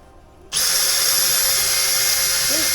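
A power drill bores during the fitting of a controller on a Husqvarna E5.5 motorcycle: it starts abruptly after a quiet moment into a loud, close, steady high-pitched whine that holds without a break, with a brief bit of voice near the end.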